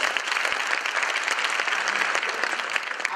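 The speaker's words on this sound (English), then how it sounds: "Let's round of applause" Steady audience applause at a fashion show, a dense wash of clapping hands sustained throughout at moderate volume with no voices on top.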